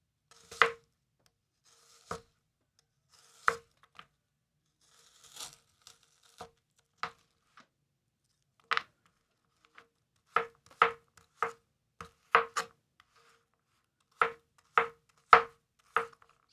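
A Japanese knife chopping through a hard onion on a board, crisp separate cuts at first, then quicker clusters of sharp chops, close and clean with no talking.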